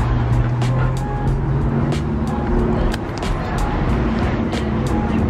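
Chicago city road traffic with cars rumbling past at close range, a steady loud wash of engine and road noise with brief sharper bursts throughout.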